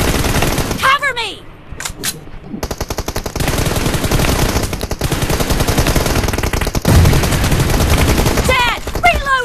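Rapid automatic gunfire in the mobile battle game PUBG Mobile, sustained loud volleys rattling almost nonstop after a short pause, with whistling effects at the start and end and speech faintly mixed under the shots.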